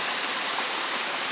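River water rushes past in a steady, loud hiss with no break or voices, close by and continuous throughout.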